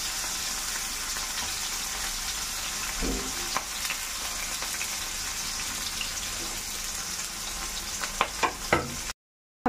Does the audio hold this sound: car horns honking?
no